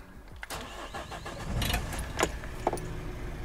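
A budget camper van's engine cranks and fires up at close range, a short churning start rising into a steady running rumble with a couple of sharp clicks and key-like rattles.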